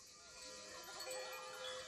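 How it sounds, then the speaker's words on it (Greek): A flock of about 400 sheep grazes on a mountain pasture at 750 metres near Petra Olympou, a faint, distant, layered chorus of many overlapping bleats with a tinkling bell among them, continuous and soft. "Έχω γύρω στα 400 και εδώ πρόβατα."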